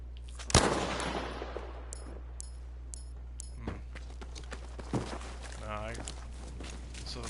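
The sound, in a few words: gunshot from the video game Battlefield V Firestorm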